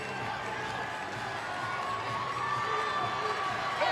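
A crowd cheers and murmurs steadily in an indoor gym at a Class D1 high school volleyball championship, a constant, moderately loud wash of voices heard from a distance.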